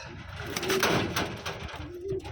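Pigeons cooing nearby in a bird enclosure in Taiwan, a few soft low coos in a short sequence with faint voices and movement around them.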